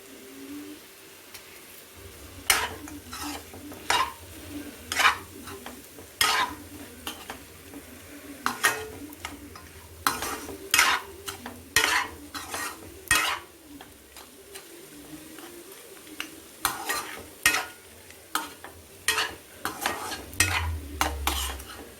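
Mutton fries in a pan with chilli powder and coriander powder while a spatula scrapes and clacks in a steady, repeated rhythm over a continuous sizzle, close and clear, with no talking.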